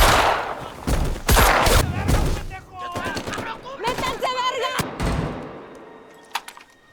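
Gunfire in a film scene about a Mexican drug-cartel fight erupts as loud bursts of rapid shots and impacts, with shouting voices and a siren-like wail between the blasts.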